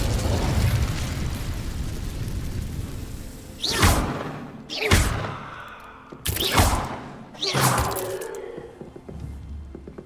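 Incendio fire spells cast in the video game Hogwarts Legacy, four whooshing fiery bursts in close succession, each swelling and fading, over a low rumbling ambience.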